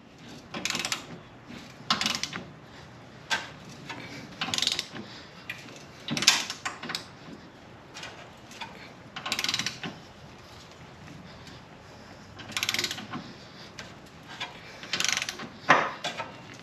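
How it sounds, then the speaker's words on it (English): A hand ratchet works in short separate bursts of rapid clicking with pauses between them, tightening the nuts of a Blue Ox BX 1128 base plate on a 2018 Jeep Grand Cherokee Limited, close by and without talk. "so we'll put a ratchet on that"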